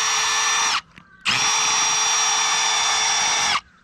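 A cordless power drill runs in reverse to back a camping tent peg out of the ground, sounding as two loud, close bursts of high whine separated by a brief pause.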